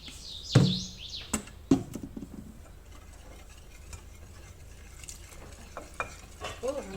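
Dry flour is worked together with butter, egg and a pinch of salt in a bowl, heard as scattered knocks and soft scraping strokes of a utensil at close range over a quiet background, with no talking.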